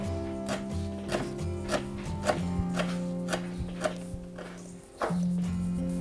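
A knife chops through cherry leaves on a board in a steady series of soft taps, about one or two per second, under a low hum.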